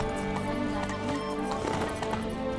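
Roach the horse galloping in The Witcher 3, a steady rapid clip-clop of hooves under layered game music and ambience, continuous and fairly close.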